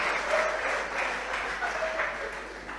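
Audience applause rings out during a sermon in an Orthodox church, a steady wash of many hands clapping that continues throughout, with a voice faintly audible beneath it.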